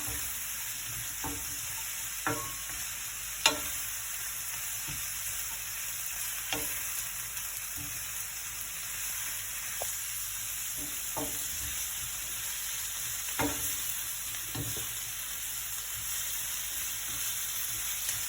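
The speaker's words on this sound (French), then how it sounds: "On va ajouter les épices. On va mélanger tout ça." Spices get stirred into a minced meat, rice and vegetable filling for a stuffed courgette tart, with steady frying sizzle and a high hiss underneath and scattered scrapes and taps of the spoon against the pan, close and alone.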